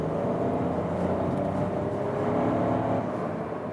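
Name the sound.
Seat Ibiza engine sound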